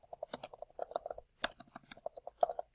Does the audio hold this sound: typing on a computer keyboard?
yes